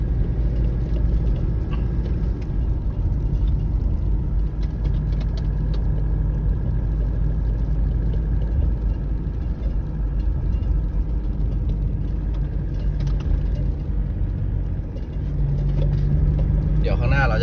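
A car drives along a road with a steady low engine rumble and road noise throughout, close and constant inside the cabin.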